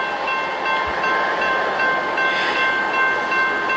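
A Union Pacific UP 2638 intermodal freight train rumbles loudly and steadily past the Massingale Road crossing, with a few sustained tonal lines above the continuous rolling noise and no voices.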